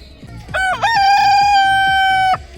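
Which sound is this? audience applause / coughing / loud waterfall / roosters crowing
roosters crowing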